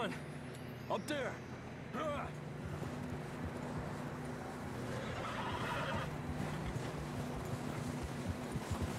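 A horse whinnying twice near the start in Red Dead Redemption 2, followed by rumbling ambient noise with faint hoof clip-clop, while people talk over much of it.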